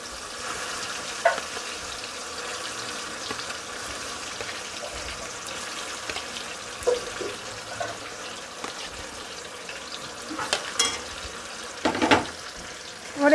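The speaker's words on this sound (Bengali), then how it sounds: "তেলটা ছিটকাবে বলে আমি খুন্তি করে দিচ্ছি।" Banana stem frying in hot oil, with steady sizzling and crackle throughout and occasional spatula scrapes and clinks against the pan.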